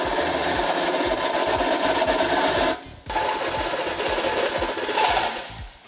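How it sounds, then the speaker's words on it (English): A power tool grinds steadily to enlarge a hole in a bumper beam bracket on a 2014 Ford Taurus, with rapid rasping pulses. It stops briefly midway, then resumes and fades toward the end. "Next, we will enlarge the inner hole on both bumper beam brackets."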